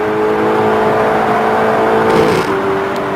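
Race cars at Monza accelerating hard through an overtake, a loud sustained engine howl with shifting pitch as one car draws alongside and passes another.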